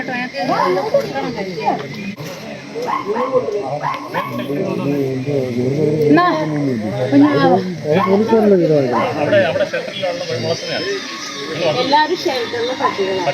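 Dogs bark and yip repeatedly over continuous nearby talking, several animals at moderate distance mixed in with the voices.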